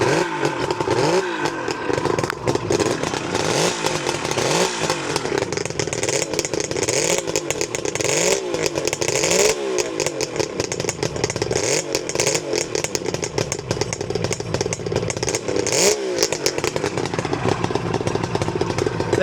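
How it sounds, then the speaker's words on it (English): A 1974 Suzuki GT550 motorcycle engine revs hard and loud nearby, its exhaust crackling and rising in repeated blips over a rough, steady idle. "sounds very nice with those exhausts, quite loud, but the engine sounds smooth and free revving"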